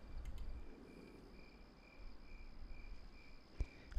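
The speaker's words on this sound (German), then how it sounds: "Das sind leise so Grillen manchmal jetzt zur Zeit." Faint chirping of crickets in an ambient scene from The Sims 3 video game, a quiet steady night backdrop with soft repeating chirps and a couple of short knocks near the end.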